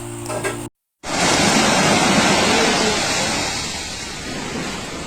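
Ocean waves at the seashore make a steady broadband roar that swells then slowly eases, loud and close, following a brief burst of other sound and a moment of silence.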